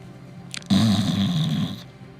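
A human voice imitates snoring, giving one loud, rumbling, drawn-out snore after a brief sniff-like intake, close to the microphone.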